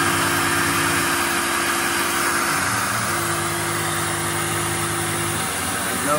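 A CNC machine contouring a knife blade gives a steady, loud mechanical drone with a sustained hum and broadband machining noise, holding evenly throughout with no talk.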